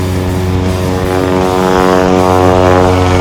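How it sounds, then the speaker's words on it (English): A Legend Cub light airplane comes in to land at a STOL short takeoff and landing event at Livermore Airport, its propeller engine droning loud and close with a steady buzzing hum. "Here comes the Legend Cub."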